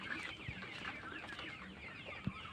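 Several chickens cluck at an evening gathering of friends: scattered, close clucks over steady background noise, with one sharper squawk near the end.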